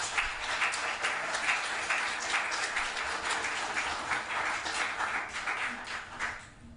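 Sustained applause from an audience at a city commission meeting, steady and dense across the room, tapering slightly at the end with no voices over it.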